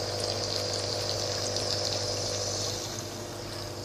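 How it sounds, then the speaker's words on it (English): A Deltec MCE300 hang-on-back protein skimmer bubbling as air is drawn through, giving a continuous watery gurgle and hiss with a steady pump hum underneath, close and even. "See, it's bubbling now. So that's my deltec 300 protein skimmer"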